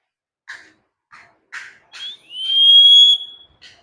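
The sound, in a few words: SCBA breathing apparatus pressure whistle when the cylinder valve opens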